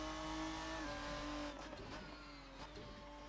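A race car's engine hums steadily on track, then the tone shifts as the driver gets back on the throttle out of a corner, a sustained close engine drone with harmonic whine.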